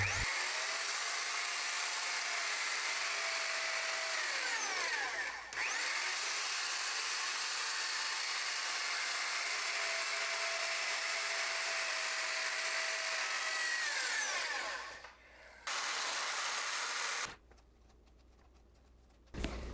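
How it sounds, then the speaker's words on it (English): A Bauer 12 amp electric pipe threader cuts threads on pipe, its motor whining at a steady high pitch, loud and close. The run stops briefly, resumes, then cuts off before a short restart. "So my first ever pipe threading experience has been a success using this Bauer 12 amp hour pipe threader"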